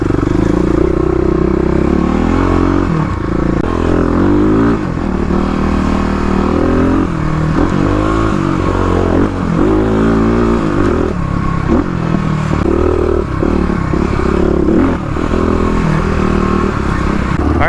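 A 35 hp Kawasaki KLX351 dual-sport motorcycle rides hard along a rough off-road 4x4 trail, its single-cylinder engine droning loud and close with rising and falling revs, plus rattles and scrapes from the rocky ground throughout.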